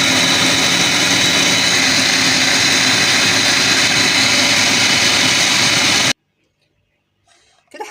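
An electric blender or food processor minces a fish mixture, whirring loud and steady for about six seconds before cutting off abruptly into near silence with a faint rustle at the end.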